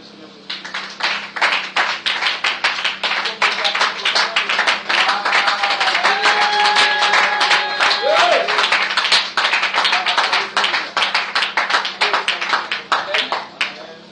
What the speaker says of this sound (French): Est-ce qu'on peut acclamer le Seigneur pour